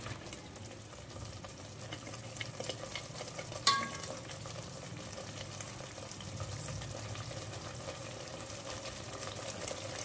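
Boiled gunda curry with tomato gravy simmers in a pan, making a quiet, continuous low sizzle and bubbling with scraping stirs and one sharper clink partway through. No one speaks.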